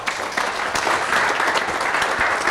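Wedding guests break into a round of applause at a celebration in the Royal Botanic Garden Sydney, a steady dense clapping that holds loud and even throughout.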